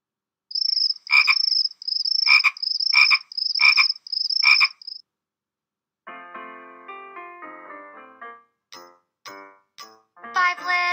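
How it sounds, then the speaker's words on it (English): Cartoonish frog croaks in a children's counting song about five little speckled frogs, a run of evenly spaced, bright croaks followed by plucky musical notes and short chimes, with no voices singing. "Five little speckled frogs."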